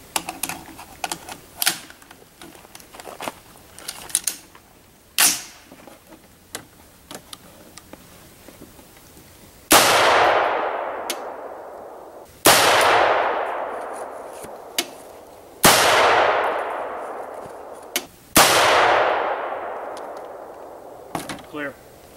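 A DPMS Panther Arms AR-10 rifle firing 7.62 rounds outdoors: four loud, sharp cracks spaced about three seconds apart, each trailing a long echoing decay, with faint scattered noises before the first shot.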